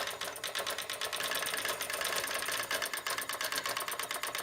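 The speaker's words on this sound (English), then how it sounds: "With no more than one needle, it is inevitably a monochrome printer, producing large dots with low speed." A homemade single-needle dot printer runs with a rapid, even mechanical chatter, like a small sewing machine, steady and fairly quiet with fine rhythmic pulsing and no voices.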